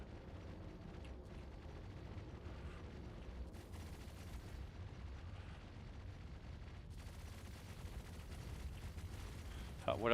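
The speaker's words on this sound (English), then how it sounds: "So the auto cannons are working." Ship auto cannons in the space game Star Citizen fire in a steady, dense barrage of booming shots that lasts the whole stretch, with a louder burst at the very end.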